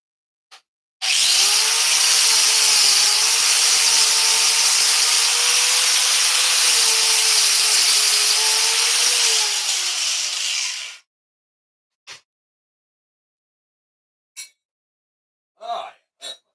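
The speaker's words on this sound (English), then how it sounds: "Grinder." A grinder running at a forge, a loud continuous whine lasting about ten seconds with a slight pitch wobble before spinning down, followed by a few short clanks and brief voices.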